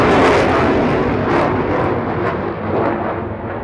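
A Sukhoi Su-30 fighter jet roars low and loud over an Aero India air show, giving a broad, rushing thunder that swells and slowly fades.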